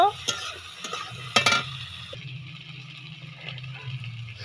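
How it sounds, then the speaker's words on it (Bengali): Potatoes and shrimp fry in a pan with a soft hiss, broken by a few sharp spoon knocks and stirring scrapes early on, then a quieter steady sizzle, close up with no voices. "আলু চিংড়ি ভেজে নেব"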